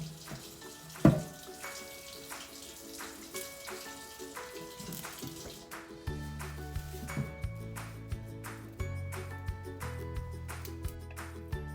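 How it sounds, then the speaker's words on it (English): Tap water runs steadily in a kitchen sink while freshly harvested garden vegetables, including carrots, are rinsed, with a close, continuous splashing stream that grows fuller midway and is heard alone without talk. "then we're gonna rinse everything very well, throw in a pot"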